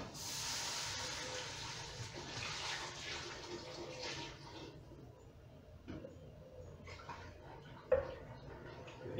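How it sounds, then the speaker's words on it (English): Water pours steadily from a tap into a soup pot, a loud rushing stream that slowly softens as the pot fills, ending with a brief clunk. "Need about 16 cups of water"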